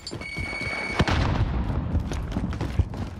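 A frag grenade blast in Call of Duty: Modern Warfare, a sharp impact followed by a dense, sustained rumble of game noise and scattered crackles, with no one talking.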